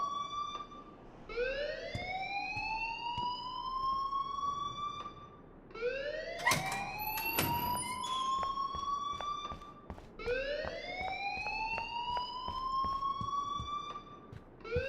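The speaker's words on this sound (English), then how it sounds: "please turn off that alarm since that's your job" A fire alarm wails in the video game Life Is Strange, rising siren sweeps repeating in long cycles, loud and continuous, with a few sharp clatters mid-way.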